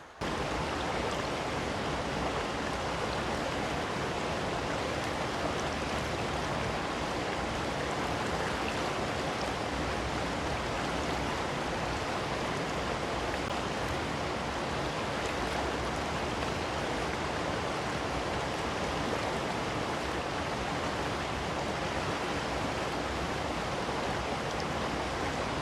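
A creek rushes steadily near a waterfall on a hike, giving a dense, even broadband roar that stays loud and unbroken throughout with no voices.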